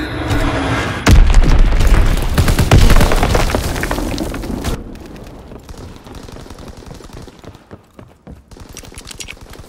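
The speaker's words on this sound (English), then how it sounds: "Enemy bomb incoming! Get to cover!" Bombs explode in a Call of Duty WWII battle: heavy, loud booms and crackling blasts with gunfire, rolling for several seconds before fading into scattered distant pops.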